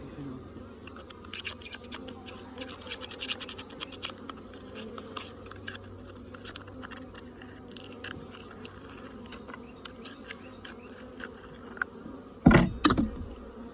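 Honey bees at a hive make a steady, faint buzzing drone throughout, joined near the end by a brief loud scraping or clattering burst close by.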